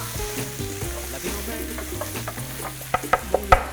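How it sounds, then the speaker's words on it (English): Onions and garlic frying in a pan while being stirred for a Spanish tortilla, with a steady low sizzle and a few sharp utensil clinks near the end. "So we're gonna put our onions in here. The garlic."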